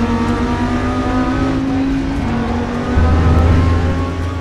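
Audi race car with a 5.2 liter V10, driven in the RaceRoom sim during a GT2 race, holds a loud steady engine drone with rising and shifting pitch, a deeper rev surge near the end, no talk.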